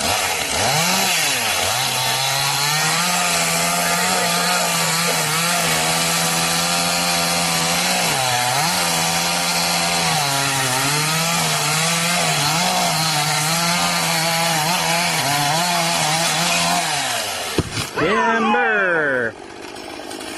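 A chainsaw cutting through wood, its engine whining loud and close with rising and dipping pitch as it bites into the cut, then cutting off near the end.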